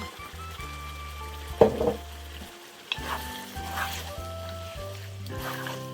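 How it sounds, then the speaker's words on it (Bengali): Minced meat sizzles and fries in tomato garlic sauce in a pan, with crackling hiss, stirring scrapes and a few utensil clinks, heard close up against a steady low background hum. "এখন আমি এটার মধ্যে দিয়ে দিচ্ছি সস যেটা টমেটো এবং গার্লিক প্যাট সস"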